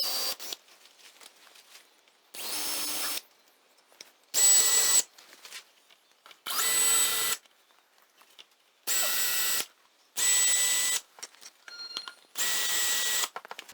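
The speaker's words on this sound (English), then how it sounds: "then drill them through the template into the carbon on the other side" Power drill boring holes through a template into a carbon fibre wing, seven separate bursts of about a second each, close and fairly loud, with quiet pauses between them.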